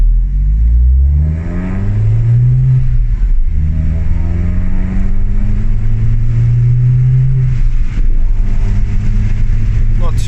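A car fitted with a custom exhaust, resonator or muffler deleted, pulls away from a traffic light with the windows down, its loud raspy engine note rising through gear changes, heard close from inside the cabin.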